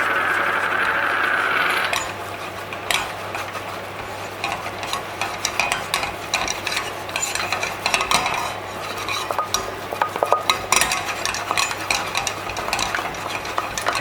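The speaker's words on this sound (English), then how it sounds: "Now time to whisk it." Flour is whisked into a foaming butter roux in a pan over a flame: after a brief soft sizzle, a metal whisk scrapes and clicks rapidly and continuously against the pan, close and unaccompanied by talk.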